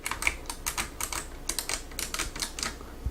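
Typing on a Razer Ornata Chroma hybrid mecha-membrane keyboard, a steady run of soft, quick keystroke clicks in irregular bursts, close and clear with no voices.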